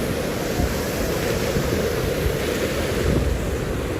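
Water rushing loudly and continuously at the Pali waterfall as it is crossed on foot during a monsoon trek near Matheran, a dense, close roar with no voices.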